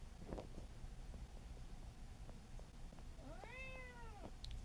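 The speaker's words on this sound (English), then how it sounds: "The moment I start recording him to talk and he stops meowing at me." A single indoor cat lets out one clear drawn-out meow near the end, faint and close against quiet room noise, with no one talking.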